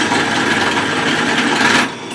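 A drill press bores holes through a metal pipe for an aircraft tailstand, giving a steady, loud whirring grind that holds evenly, then drops away as the bit breaks through.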